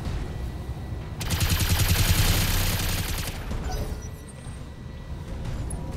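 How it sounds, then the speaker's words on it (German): Mech-mounted machine guns fire in a dense, loud burst in the Battletech video game, a rapid rattling volley lasting about two seconds before fading into a quieter rumble. "Die MGs schießen trotzdem alle."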